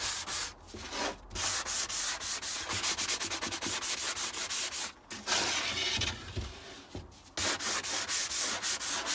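A sanding block rubs along the edges of an MDF panel in quick repeated back-and-forth strokes, close and loud, with short pauses between passes.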